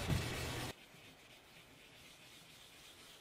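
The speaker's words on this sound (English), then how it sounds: "I moved on to hand sanding with 600 and 2000 grit" Hand sanding epoxy resin and wood with fine 600 and 2000 grit sandpaper, a brief close scrubbing rub at the start followed by quiet room tone.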